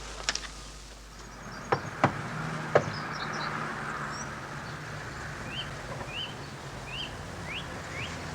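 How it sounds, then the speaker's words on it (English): Knocking on a house door: a few sharp raps, two close together then one more, fairly clear against a quiet outdoor background where birds chirp faintly and no one speaks. "Hey, knock again, Jack."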